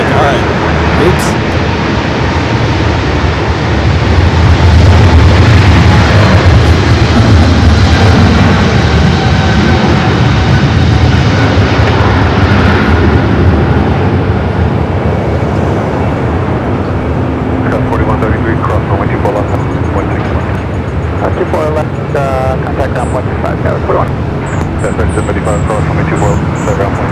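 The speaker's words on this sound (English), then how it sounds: "We do have Independence 1, the 737 MAX 8." A Boeing 737 MAX 8 jet at Los Angeles International Airport gives off a loud, sustained engine roar that swells early and then eases off slowly, with people talking over it and birds chirping faintly near the end.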